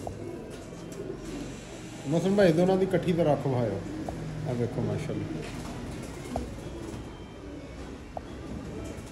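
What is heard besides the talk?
Ferozpuri pigeons cooing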